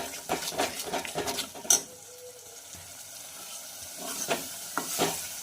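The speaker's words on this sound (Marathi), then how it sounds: "हे मसाले आपल्याला तेल सुटेपर्यंत परतायचे आहेत" Spices for a chicken curry sauté in oil in a pan, with a soft continuous sizzle under bursts of scraping and stirring, a sharp clink near the middle, then quieter frying before more stirring.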